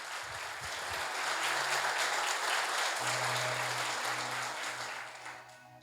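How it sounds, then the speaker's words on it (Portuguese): Church congregation clapping together during a worship service, a sustained wash of applause that swells and then gradually thins, with low musical or vocal tones humming underneath. "Aplauda o Senhor, bem forte,"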